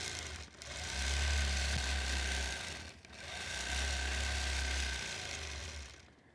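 A sewing machine stitches a quilt with freshly loaded bobbin thread, running in two long steady bursts with a brief pause between them, moderately loud with a low motor hum and no talk.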